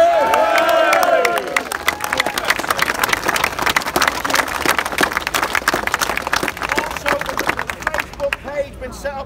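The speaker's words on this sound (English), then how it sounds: "we need to give ourselves a round of applause" Crowd at Speakers' Corner in London breaking into loud, sustained applause and cheering with whoops, steady clapping filling the scene from start to finish, voices shouting over it early on.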